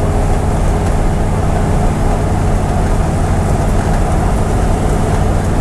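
A Dodge Power Wagon truck engine idling after sitting parked for 16 years, a steady loud low rumble with broadband exhaust noise that holds constant throughout, with no talk over it.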